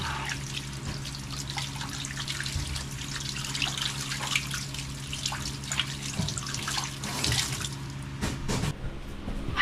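Water runs steadily from a tap with splashing and dripping, close by, as hands are rinsed under the flow; a few clunks near the end.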